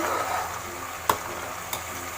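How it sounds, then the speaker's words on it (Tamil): A pot of payasam bubbles and sizzles steadily at close range, with a couple of sharp clicks of a spoon or lid breaking the simmering hiss. "இங்கே பார்த்தீங்கன்னா நம்ம பாயசம் கூட கொதிக்குது"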